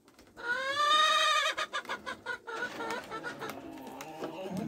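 Chickens nearby let out a drawn-out squawk followed by a run of quick, rhythmic clucks, continuing in a busy, close chatter.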